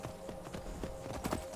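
A horse's hooves clip-clop in Skyrim in a quiet, fairly even walking rhythm over a soft background hum, with no voices.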